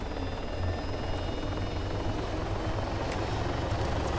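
A helicopter in the ArmA 3 game drones on in flight, a loud, unbroken rotor and engine rumble with a steady low throb and no voices over it.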